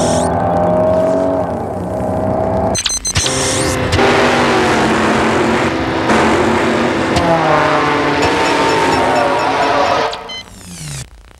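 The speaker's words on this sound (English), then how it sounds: "the car is the new Accord from Honda" A new 1993 Honda Accord drives in a television commercial, its engine loud and close with a race-like roar and hints of tire squeal. A short break comes early, then it runs steadily before dropping away at the end.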